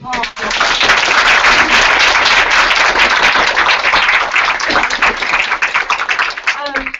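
An audience at a panel event on protest movements breaks into dense, sustained applause that fills the room, loud and steady before thinning out toward the end.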